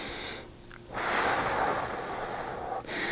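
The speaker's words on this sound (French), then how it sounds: "c'est juste prendre une minute pour respirer profondément" Slow, deep breathing in and out during a calm relaxation exercise, with a soft, close inhale swelling into a long, steady exhale; no talking.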